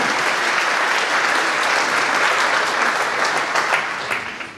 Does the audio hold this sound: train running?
no